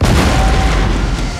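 Cannons in a Total War battle set in the Thirty Years' War, fielded by the Habsburg side, let off a round of canister shot as one loud, deep boom that rumbles on for a moment.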